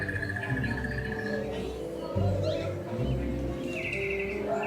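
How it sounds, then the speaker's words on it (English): Caged birds in the animal exhibits at the Ark Encounter in Williamstown, Kentucky, giving sustained chirping and trilling calls over a steady low hum of indoor background noise. "Some more cages with various animals here,"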